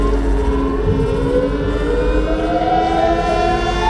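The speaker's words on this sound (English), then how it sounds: "pan and filter digital noise, and these detuned sirens, basically." Dense, detuned electronic siren tones waver and overlap alongside panned, filtered digital noise in a track, loud and sustained throughout with no pause.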